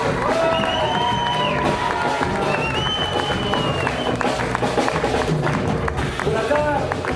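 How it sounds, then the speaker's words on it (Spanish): An audience at a live concert by a Mapuche music group in a concert hall applauds and cheers after a band member is introduced, with steady clapping, shouts and whistles filling the room throughout. "Un aplauso."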